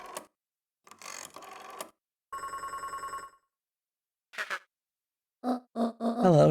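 A telephone rings in the video game Beacon Pines, a bright electronic trill sounding once amid short game sound effects and chimes, with no talk.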